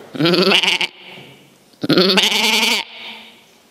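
A voice imitates a sheep bleating, two long, wavering baas separated by a short pause, close and fairly loud, in a Sicilian series of animal imitations.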